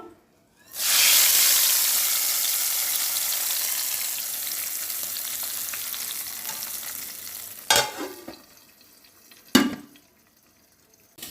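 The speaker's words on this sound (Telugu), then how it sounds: "ఇప్పుడు నేను ఎండుమిరపకాయలు మరి వచ్చేసి ఇంకా జీలకర్ర ఇవి కూడా వేస్తాను" Loud hiss of dry red chillies and cumin hitting hot oil for tempering, sizzling steadily for several seconds and slowly fading, followed by two sharp metallic clatters.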